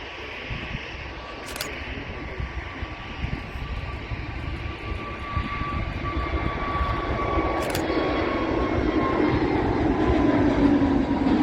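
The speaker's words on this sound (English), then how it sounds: "it's an Airbus A321-200 Neo. This aircraft operating EasyJet's flight 22924 to Milan" An easyJet Airbus A321neo jet taking off from Manchester Airport on a flight to Milan, its engine roar building steadily from a distant rumble to a loud, sustained whine with a strong tonal hum.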